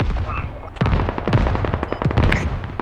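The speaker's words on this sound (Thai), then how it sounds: "โอเคครับยิงไปอีกลูกหนึ่ง" Gunfire from the game Squad, a round of sharp shots cracking in quick succession with echoing reports. A voice talks faintly underneath.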